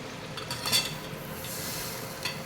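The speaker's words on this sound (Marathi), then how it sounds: "आता हा बनवलेला तडका आपण या छोल्यांमध्ये घालूया" Sizzling tadka poured into Amritsari pindi chole, with a soft steady hiss, a brief brighter sizzle burst and light clinks of a spoon or pan against the pot.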